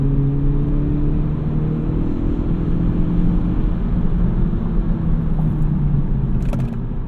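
A 2023 Honda Civic Type R pulls hard through first and second gear, a sustained loud engine drone with rising tones under road rumble, steady throughout and easing slightly near the end.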